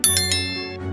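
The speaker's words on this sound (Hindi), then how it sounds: "Notification bell." A notification bell dings three times in fast succession, bright and close, its ring then fading out.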